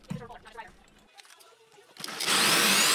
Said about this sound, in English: I used a Forstner bit to drill